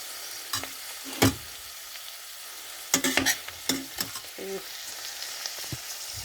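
Bamboo shoot curry with pork cartilage being stirred and fried in a pan, giving a soft continuous sizzle broken by several sharp scraping clacks of a spatula, close by and with no talking.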